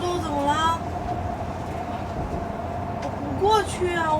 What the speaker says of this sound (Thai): ตอนนี้ขบวนรถกำลังจะทำขบวน เข้าสู่สถานี ซูโจว